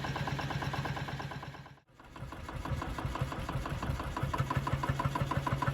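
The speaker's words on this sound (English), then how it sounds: "Here is the running engine." A Deutz locomotive engine runs steadily at close range, a loud, even, rapid mechanical chug with a regular knocking rhythm, broken by one brief dip before it carries on unchanged.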